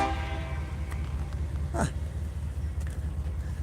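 An empty coal train rolls past on the Coal River sub near St. Albans, a steady low rumble of wagons running throughout with a brief horn blast rising near the middle, loud and fairly close.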